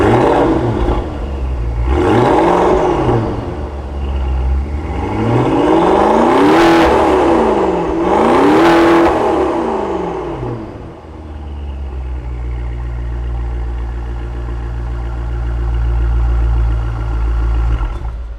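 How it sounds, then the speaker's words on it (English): Maserati Quattroporte GTS V8 with resonator-deleted exhaust in sport mode, revved hard in an enclosed space: several loud rising-and-falling revs, then settling into a deep rumbling idle. "listen to the pure sound of the Maserati Quattroporte GTS"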